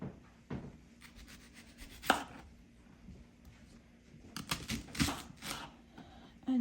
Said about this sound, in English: Now I will cut up those onions.